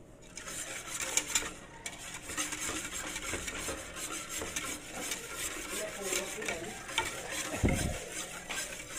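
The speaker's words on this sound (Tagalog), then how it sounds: "Haluin nyo mga continuous na lang siya. Hanggang lumakot siya, guys." Halva milk mixture stirred continuously in a pot over a low flame, a steady soft scraping and gentle bubbling that runs throughout, with occasional utensil clinks against the pot.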